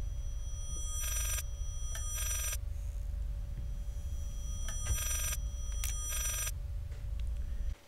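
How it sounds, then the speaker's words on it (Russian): A distorted, broken telephone rings somewhere in the horror game Layers of Fear, sounding in harsh bursts over a constant low droning hum with steady tones. "Какой-то очень-очень испорченный телефон где-то звонит."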